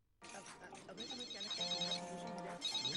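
A telephone rings with a steady electronic trill that starts abruptly and goes on for about three seconds. It sounds fairly quiet and indoors, with faint voices underneath.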